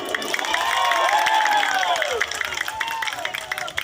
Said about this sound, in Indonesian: Tepuk tangan dulu dah.